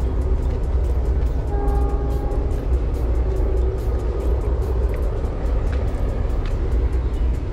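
A train passing near Kuripan Beach in Batang, heard from a three-storey lookout tower alongside a toll road, a steady broad rumble lasting throughout with faint tonal squeals and distant traffic mixed in.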